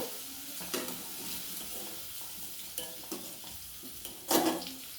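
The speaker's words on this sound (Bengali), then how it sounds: "আমার আলুগুলো বেশ ভাজা ভাজা হয়ে গেছে।" New potatoes frying in oil in a pan for a chickpea ghugni give a soft sizzle. Intermittent stirring clinks run through it, ending with a louder scrape near the end, and no one speaks.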